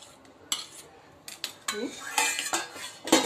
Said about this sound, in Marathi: सुरीने असा सोडवून घेऊया थोडासा हलक्या हाताने.